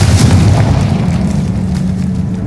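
A Confringo fire spell from the Hogwarts Legacy video game goes off as a heavy, rumbling blast, with a deep low boom that holds steady and loud for a couple of seconds before easing slightly.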